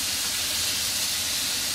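Crab pieces sear in a hot pan with a loud, steady, close sizzle, bright broadband hiss running unbroken and without any talk.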